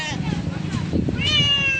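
A cat meows a few times, drawn-out and nearby, with a person talking over and between the cries.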